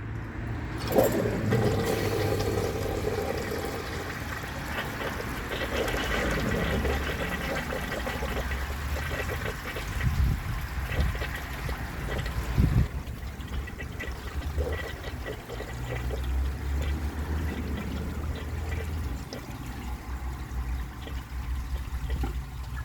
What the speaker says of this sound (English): Obviously the flush is going to be stronger than normal